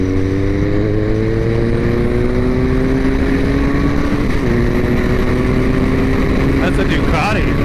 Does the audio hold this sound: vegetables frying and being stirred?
no